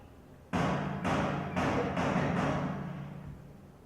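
The same street door knocker, heard from inside the hall: about five loud, booming knocks in an even rhythm, each ringing into a long, reverberant tail that fades out slowly.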